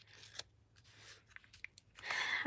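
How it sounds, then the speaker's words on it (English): Fancy scissors snipping through fabric, a few soft crunching cuts with short pauses between them and a louder, longer tearing cut near the end, close and fairly quiet. "that one I also used the fancy scissors"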